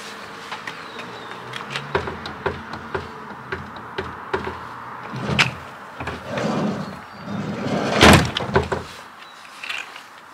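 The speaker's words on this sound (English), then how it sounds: "there's definitely a knack to closing the side door at the moment." The sliding side door of a VW T4 van is handled with a series of clicks and light knocks, building to a loud, close metallic slam about three-quarters through, followed by quieter rattles.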